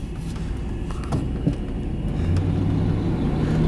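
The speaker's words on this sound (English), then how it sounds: "Idles down nicely" A 1999 GMC Yukon SLT 4x4 with a 350 V8 idles steadily, a low, even engine rumble that hums on without revving, close by and with no talk.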